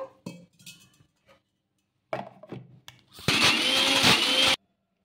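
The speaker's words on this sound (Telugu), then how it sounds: "ఇప్పుడు కొంచెం నీళ్ళు వేసేసుకొని మిక్సీ పట్టేసుకుందాము" A few short clunks and taps, then a loud mixer grinder whirs steadily for over a second before cutting off abruptly, blending soaked puffed rice with a little water.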